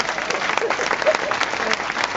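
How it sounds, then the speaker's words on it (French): Steady audience applause at a cultural evening show, dense continuous clapping from a crowd for the whole stretch, moderately loud with no clear speech on top. "Mesdames et messieurs, je vous demande d'applaudir ma tante Agloire."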